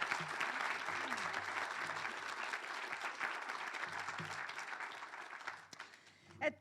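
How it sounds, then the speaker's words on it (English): Audience applause at a school award ceremony, a dense, steady patter of many hands heard from a moderate distance that thins and fades out toward the end. "Let's give another round of applause for all of our boys."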